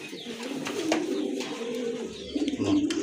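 A pair of pigeons coos steadily at close range, low rolling calls repeating without pause and with no voices.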